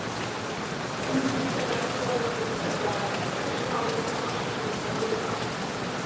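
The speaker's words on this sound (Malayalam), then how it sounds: "മഴയാണ്" Steady rain falls outdoors as a dense, even hiss of drops on surfaces, continuous for the whole stretch. Faint voices murmur low beneath it.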